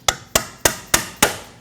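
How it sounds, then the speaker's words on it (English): A hammer strikes a pry bar five times in an even rhythm to knock loose a locking clamp on the inner tie rod of a 2014-2023 Ford Transit Connect, each sharp metallic hit ringing briefly and close. "Strike this with a pry bar and hammer to disengage it."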